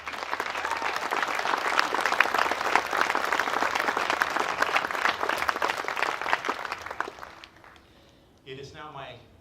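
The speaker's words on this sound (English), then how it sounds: "Please join me in a round of applause for these people." An audience at a music celebration held by California State University, Long Beach claps in a strong, steady round of applause that fades out near the end. A voice then begins speaking over a microphone.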